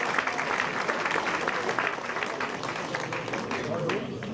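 An audience at a mayor's New Year address in Azur applauding, a dense, sustained wash of clapping heard at moderate distance that continues evenly for several seconds.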